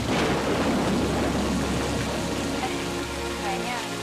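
Steady rain falls as a dense, continuous hiss, loud and close, with a low rumble beneath it, in an Indonesian mystery TV drama scene, with no talk over it.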